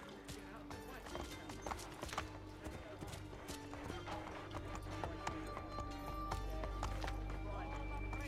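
A horse gallops in Assassin's Creed 3, its hooves clip-clopping in a quick steady rhythm with an occasional whinny, set against game ambience with someone talking over it.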